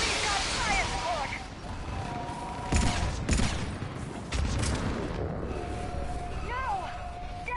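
Gunfire from fire support in the Mass Effect video game: several heavy bursts of shots and booms land in the middle of a noisy battle, with voices shouting over the fighting.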